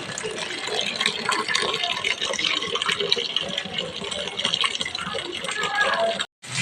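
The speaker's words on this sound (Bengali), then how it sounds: "জল ভরছে, এখান থেকেই আমি জল দিয়ে দেবো।" Water gushes steadily into a container being filled for watering plants, a continuous close splashing rush that cuts off abruptly near the end.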